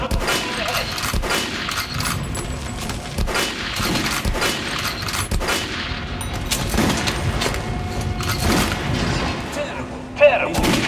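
Gunshots in the video game Metro: Last Light Redux on Nintendo Switch Lite, with repeated loud bangs and booming reports spread across a noisy, busy scene and one sharp crack near the end.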